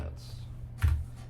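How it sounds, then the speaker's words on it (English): Clacks from a loud computer keyboard sound close to the mic, with one sharp burst of keystrokes standing out against a low hum and a voice talking. "Sorry, my keyboard's loud."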